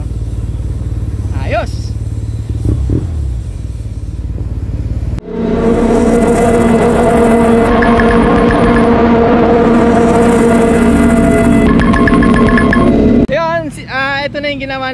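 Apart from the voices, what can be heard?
Yamaha TMAX scooter engine running after ABS repair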